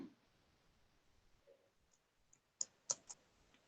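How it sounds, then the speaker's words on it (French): A few sharp computer mouse clicks, three quick clicks close together near the end after a quiet stretch, fairly faint and close. "on clique"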